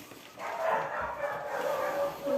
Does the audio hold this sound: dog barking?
yes